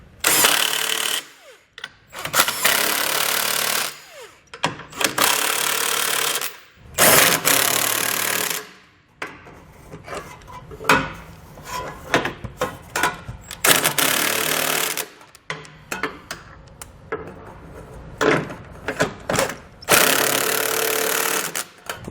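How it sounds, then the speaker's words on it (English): Ratcheting of a 19mm socket snugging down hidden trailer hitch hardware on a 2018 vehicle, heard as repeated bursts of rapid mechanical clicking separated by short pauses, close and fairly loud, with no talk. "we can come back with a 19mm socket and snug"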